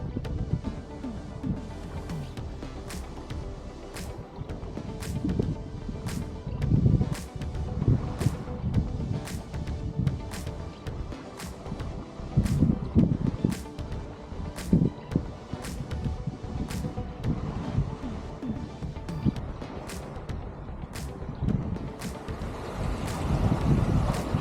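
Wind buffets a sailboat cruising past a headland in lumpy seas, a steady roaring gust noise with rhythmic sharp knocks or slaps repeating about once a second throughout.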